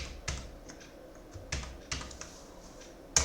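Scattered keystrokes on a computer keyboard, a few sharp clacks with pauses between, ending in a louder key press like Enter, close and quiet, no voices.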